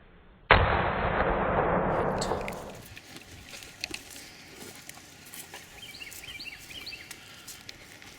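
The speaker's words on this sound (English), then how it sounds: "We're firing those Winchester Western PDX rounds out of the 308" A .308 rifle fires a single Winchester Western PDX round into a ballistic gel block outdoors, a sudden loud crack followed by about two seconds of rolling, booming echo that fades into quiet ambient noise.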